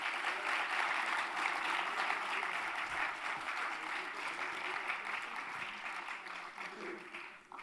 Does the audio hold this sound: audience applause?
yes